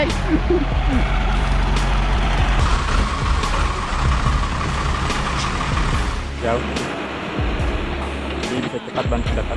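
A truck loaded with green coconuts, stuck in mud on a country road, grinds its engine in a loud continuous rumble, with a voice talking over it.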